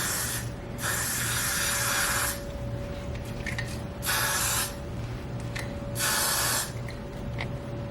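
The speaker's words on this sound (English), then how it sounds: "Let me go ahead and just spray some of this Got to Be down." Three separate bursts of Got2b aerosol hairspray hiss close up, each lasting about a second or more, with quiet pauses between them.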